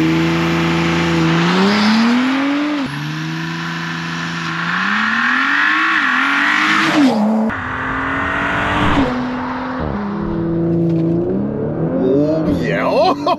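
A turbocharged car fitted with an upgraded air intake, turbo inlet and intercooler accelerates hard on a full quarter-mile pass, its loud engine note climbing through several gear changes with brief dips between shifts, heard from inside the car.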